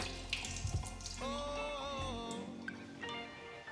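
Filtered drinking water runs steadily from a kitchen tap, with a tonal whine and some clatter near the start, then the flow fades into quieter splashing.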